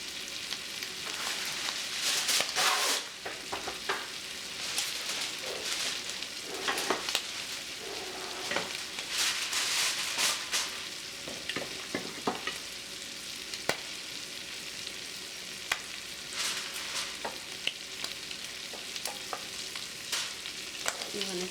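Shrimp sear in a hot pan on their second side for a garlic butter dish, giving a steady crackling sizzle all the way through with occasional louder pops and stirring clatter, close and alone with no talking.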